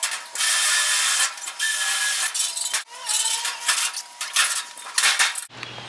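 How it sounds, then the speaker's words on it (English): Screws being driven up through the bottom of a rolling garage pantry cabinet to attach casters: a run of ratcheting, whirring mechanical bursts separated by short pauses, fairly close. "I just ran a couple screws to the bottom up right here."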